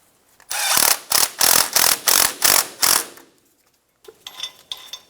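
A hand ratchet tightens a bolt holding the brake hose bracket to the steering knuckle on a 2000-2006 Toyota Tundra, eight loud, evenly spaced ratcheting strokes, then a few quicker, fainter clicks after a pause.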